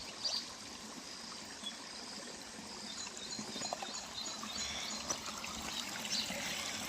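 Water runs steadily from a tap in a soft, continuous trickle while dishes are washed, with faint clinks and small splashes now and then.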